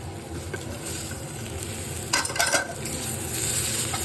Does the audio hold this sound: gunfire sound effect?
no